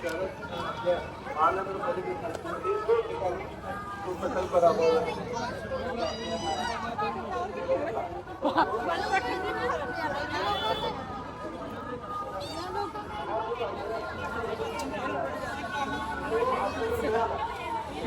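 A dense crowd murmurs on and on at an Angarki Chaturthi Ganpati darshan, with many overlapping voices close by, occasional louder calls, and a brief clatter of traffic mixed into the babble.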